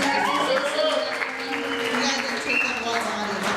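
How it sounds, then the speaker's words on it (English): Audience applause at a Michigan Burner Symposium session, a steady broadband wash of many hands clapping together that holds at an even level throughout, with a voice faintly audible beneath it. "You guys should give yourselves a little bit of applause."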